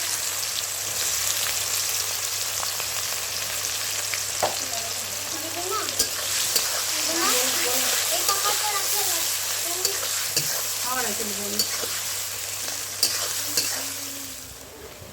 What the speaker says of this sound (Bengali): আমি পেঁয়াজ দিয়ে দিচ্ছি, কুচিয়ে রাখা পেঁয়াজ